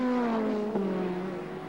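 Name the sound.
touring race car accelerating away, car number 20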